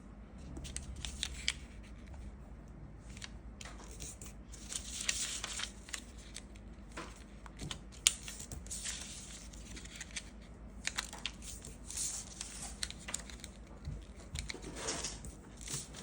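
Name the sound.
folding paper to make a paper blade toy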